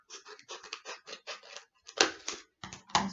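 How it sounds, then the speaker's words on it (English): Pair of scissors snipping small slits into a board for a homemade shadow puppet theatre, a quick run of crisp close cuts followed by a few louder, rougher snips. "So I'll cut down using some scissors."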